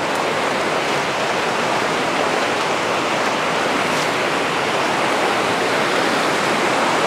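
Stream water flows under a bridge beside a grassy embankment, making a loud, steady rushing wash that never lets up.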